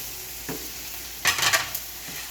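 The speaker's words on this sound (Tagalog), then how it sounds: "Then, ihulog natin ang sitaw" String beans (sitaw) dropped into a pan for sautéing, with a soft sizzle, a light clink, then a louder burst of stirring and frying crackle before settling back to a low sizzle.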